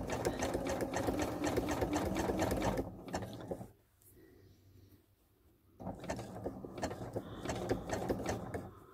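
A sewing machine stitches pieces of fabric together for a Dresden plate quilt block, a loud rapid mechanical chatter that pauses for a few seconds of quiet fabric handling, then resumes at full speed.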